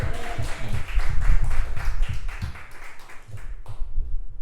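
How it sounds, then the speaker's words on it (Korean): A church congregation at a Sunday worship service claps warmly in praise to God, a full, close, steady roar of hands that tails off near the end, with no talking over it. "여러분 뜨겁게 하나님께 감사와 영광의 박수 올려드리겠습니다"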